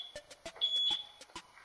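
A bedroom security alarm sounds after its pressure pad is stepped on, giving a rapid series of sharp electronic beeps, about nine in quick succession, with a sustained high tone in the middle, loud and close with no talking.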